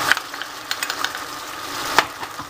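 Chicken and vegetables frying in a pan for a stewed chicken as white wine is poured in, a steady close sizzle with soft stirring clicks and a brief louder splash near the end.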